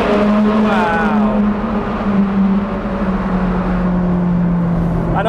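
Ferrari 430 Scuderia V8 heard from inside while driving below 6,000 RPM, giving a steady, mellow engine drone with a voice speaking over it near the start.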